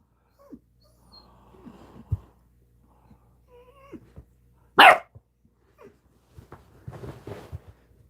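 A puppy playing, with scattered yips, small whines and snuffles, then one loud sharp bark midway before more scuffling and soft vocal noises.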